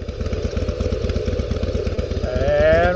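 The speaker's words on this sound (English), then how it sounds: "let's take her outside on the bike, take it for a ride" A motorcycle engine idling close by with a fast, even putter, then revving higher in the last half second as the ride begins.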